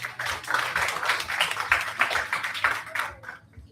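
Applause from the audience at a youth anti-nuclear forum, a dense patter of clapping that holds steady for about three seconds and then thins out and fades.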